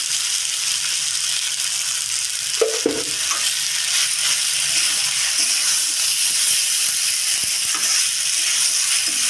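Spices fry in a pan of curry cooked as a Saraswati Puja offering, with salt added. A steady, loud sizzle hisses without pause, with a brief scrape or clatter partway through.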